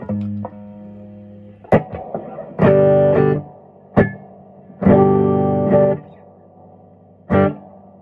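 Electric guitar notes and chords ring out through a mouse-damaged Silvertone 1484 amplifier with a lingering, splashy reverb tail, played in short bursts with pauses between.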